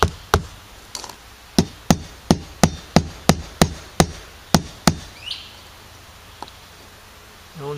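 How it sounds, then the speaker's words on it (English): Small brad nails are tapped in with a small hammer on a homemade DIY multimeter holder, about a dozen sharp, evenly spaced knocks close by, each with a brief ring, then a pause and a faint tap. "use my small hammer."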